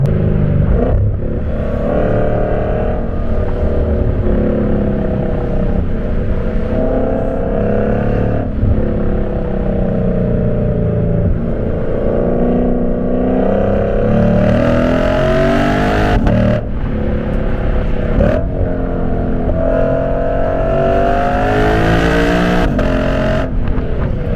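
A Lexus RC F with a loud exhaust growls and revs continuously while being driven hard, the engine note rising and falling through gear changes, close and dominant throughout.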